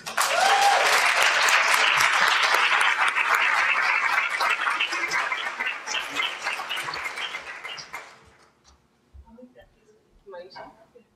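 Loud applause from a large audience at a graduate awards night, sustained for several seconds before tapering off into scattered claps and murmuring voices.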